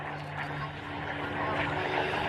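Photo reconnaissance Supermarine Spitfire Mk XI flying a display at the RAF Cosford Air Show, its piston engine giving a steady droning hum with a slight swell, heard alone over a brief stretch.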